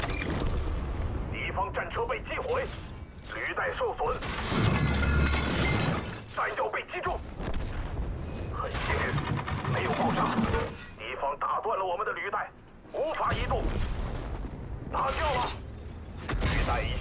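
A WZ-111 tank in World of Tanks fires its cannon with HE shells, the loud shots bursting repeatedly through a dense, continuous battle din while voices talk over it.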